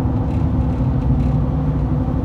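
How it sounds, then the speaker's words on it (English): Steady tire road noise from Cooper tires on a 2011 GMC Sierra 1500 Z71 four-wheel-drive pickup, a continuous low rumble and whir heard from inside the cab, loud and unbroken with no talk. "These Coopers aren't bad. They're pretty smooth, actually, but they're just noisy as hell."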